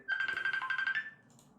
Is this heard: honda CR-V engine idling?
no